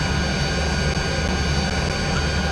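A helicopter flies near the Victoria Bridge at Kuala Kangsar, its engine and rotor making a loud, steady, broadband roar that stays constant and close throughout, with no talk.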